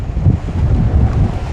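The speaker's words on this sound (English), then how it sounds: "as you can see, it's quite windy" Gusty wind buffets the microphone outdoors in a vegetable garden where giant long-root vegetables are grown, a steady low rumbling roar that swells and dips throughout with no talking.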